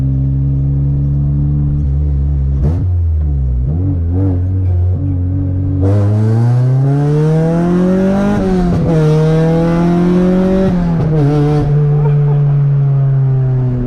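A K24-engined Honda Civic revs hard and climbs through the gears, its pitch rising, dropping at each shift, then rising again, loud and close throughout.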